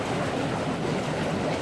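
Bubbles churning in warm pool water make a continuous close, dense gurgling hiss that holds steady from start to finish, with no talking.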